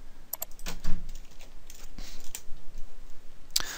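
Keys clatter on a computer keyboard in a quick, uneven run of close taps, with a few louder strokes near the end and no voices over it.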